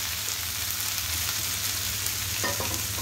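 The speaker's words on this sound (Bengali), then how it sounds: "এখন আমি দিয়ে দিব আগে থেকে কেটে রাখা ঢেঁড়স" Chopped okra added to frying onion in a pan, a steady hiss of sizzling oil with light stirring clatter near the end, close and unbroken.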